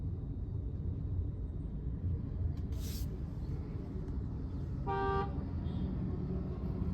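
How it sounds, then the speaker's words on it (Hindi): A car horn gives one short toot from behind at a fuel station, heard over a steady low rumble of idling traffic and a brief hissing burst. "पीछे कोई गाड़ी वाला हॉर्न बजा रहा"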